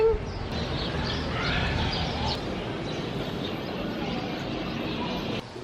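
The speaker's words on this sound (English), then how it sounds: "The birds are chirping." Birds chirp and twitter in the open air in Cuba, a cluster of short calls early on over a steady background hiss, then fading under the ambient noise.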